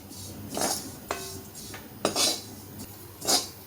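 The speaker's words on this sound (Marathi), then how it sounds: "हे बघा, खोबरं छान खरपूस भाजत आलंय" Grated coconut roasting in a pan for goda masala, stirred with a metal spoon that clinks and scrapes against the pan in several distinct strokes, with quiet gaps between them.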